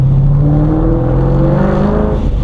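A loud, throaty modified car engine drones steadily at low revs under light throttle, its deep rumble filling the clip without any talking.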